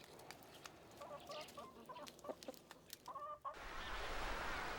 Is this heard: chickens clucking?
yes